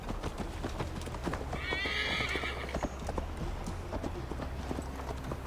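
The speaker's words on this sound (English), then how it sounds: "Mount up, Eivor. It's a long ride to Tamworth" Horse galloping under a rider in the video game Assassin's Creed Valhalla, steady rapid hoofbeats throughout with a loud whinny partway through, set against continuous game ambience.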